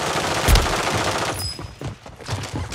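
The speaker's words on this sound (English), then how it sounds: "Oh, I got shot from behind." Rapid automatic gunfire in a battle royale video game, loud, dense and continuous bursts with a sharp crack near the half-second mark, carrying on throughout without talk.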